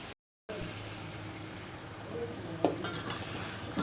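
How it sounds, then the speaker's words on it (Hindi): Paneer gravy frying and being stirred in a pan, a soft steady sizzle with faint scraping and a brief clink of utensils near the end, no talking. "यहाँ पर हमारी पनीर की ग्रेवी जो है वो भुन रही है"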